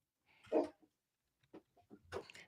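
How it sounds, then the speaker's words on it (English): A dog gives a few short, rough barks and grunts close by, with quiet gaps between bursts, in a quiet room. "He was growling and barking"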